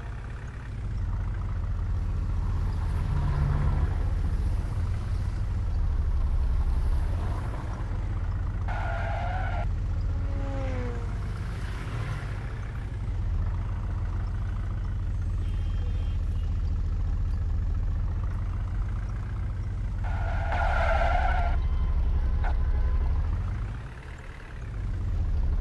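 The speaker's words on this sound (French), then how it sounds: "Et on est parti avec le camion qu'on doit aller charger." A truck drives in a video game, its engine sound a constant loud drone with a heavy low rumble throughout, and occasional tire skids and higher engine tones rising over it.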